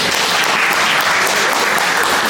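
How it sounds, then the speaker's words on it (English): Audience applause fills a boxing press conference for a Lerena vs Radchenko bout, steady and dense dense clapping from a room of people, loud and sustained throughout with no break. "can you give Legacy Promotions a good round of applause?"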